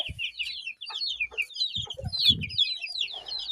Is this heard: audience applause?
no